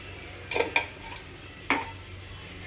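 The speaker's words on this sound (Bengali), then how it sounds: "এটাকে হালকা একটু নাড়িয়ে নেবেন" Spices such as coriander and garam masala powder being lightly stirred in a cooking pan for a pointed gourd and prawn dish, with a few short scraping clinks of a spoon against the pan, close and otherwise quiet.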